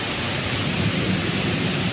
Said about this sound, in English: We're just gonna wait out the rain a little bit.